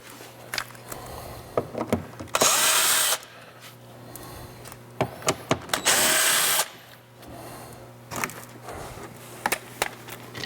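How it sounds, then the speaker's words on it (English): A power drill backs out the screws holding the mud flap on a 2014 Ford F150, with two long whirring bursts among scattered clicks and handling knocks, close and loud over a low steady hum. "remove these two screws and take this mud flap off"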